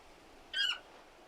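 A chocobo bird in the video game Final Fantasy XVI gives a single short, bright squawk with a quick falling pitch, lasting about a quarter second, over quiet background ambience.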